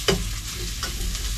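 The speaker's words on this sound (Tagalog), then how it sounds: "Igisa ang sibuyas." Onions and garlic sautéing in a pan, a steady close sizzle with a sharp scrape of stirring near the start and a softer stir later.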